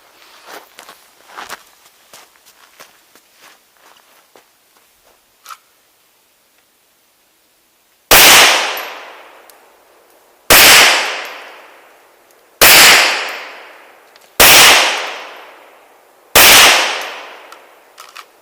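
A few faint footsteps and small shuffles on an outdoor range, then after a short silence five loud, sharp shots from a Smith & Wesson M&P 2.0 5-inch pistol, spaced about two seconds apart, each with a ringing tail.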